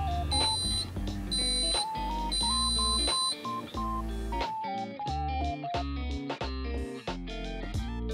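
A loud electronic alarm buzzer from an amplified Daiso sensor light cycles through shrill, warbling tones in a repeating pattern, harsh and piercing, with no voices.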